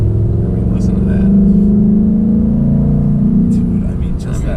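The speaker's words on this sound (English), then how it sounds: "listen to how good that sounds. Just that light acceleration" A 2024 Ford Mustang GT with a 10-speed transmission pulls away under light acceleration, its V8 growl rising smoothly and steadily up close inside the cabin, with people talking over it.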